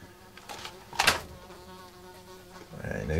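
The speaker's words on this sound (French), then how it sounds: "là être emmerdée par une mouche quand même" A housefly buzzes in a cellar, a near, wavering drone that swells in a brief loud pass around the middle and rises again at the end, with no talking.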